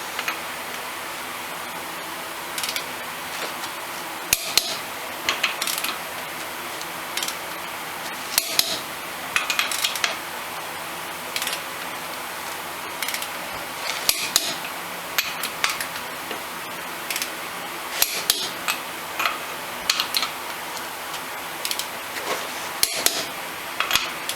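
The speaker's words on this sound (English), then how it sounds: "we want to make sure we torque these down to 165 foot-pounds" Wheel lug nuts on a 2006 Ford F350 dually are torqued to 165 foot-pounds, with scattered sharp metallic clicks and taps spread over a steady background hiss, close by and without speech.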